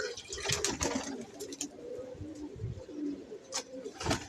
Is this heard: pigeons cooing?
yes